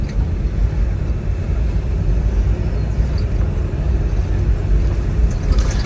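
A 1967 Chevrolet Chevelle Malibu V8 runs while low on fuel, putting out a steady, deep engine rumble at constant volume from nearby, with no talking.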